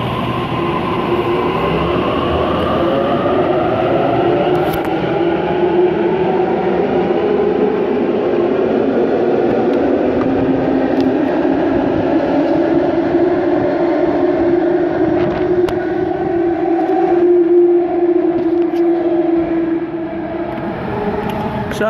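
A Sydney electric train pulls out of Macquarie University Station, heard from on board as a steady, loud rumble with a rising motor whine as it gathers speed, plus faint rail clicks and a brief squeal, no talking.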